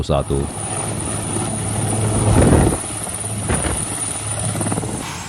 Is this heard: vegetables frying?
no